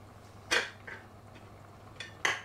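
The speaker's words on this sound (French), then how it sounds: "on va quand même les couper en petits morceaux sur la planche" A knife chops citrus zest into small pieces on a cutting board, giving a few sharp, close taps at uneven intervals with quiet pauses between them and no voices.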